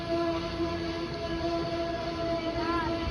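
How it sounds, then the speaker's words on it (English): An Amtrak Northeast Regional train bound for Washington, D.C. rumbles loudly and steadily past the platform at New Carrollton station, with a brief horn-like tone near the end. "It's the Amtrak going to Washington, D.C."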